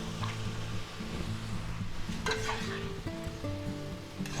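Mushrooms sizzle quietly in a chicken and broccoli stir fry, a soft steady frying hiss with faint stirring, set under low tonal background sounds and no talking.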